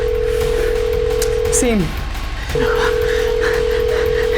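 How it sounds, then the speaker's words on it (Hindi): A phone dial tone or ringback tone hums steadily while a call rings unanswered in a tense drama scene, broken briefly by a short voice, then resumes alone. "पापा मैं फोन पर फोन किए जा रहा हूँ उसके इंडिया वाले नंबर पर वो फोन उठा ही नहीं रही है।"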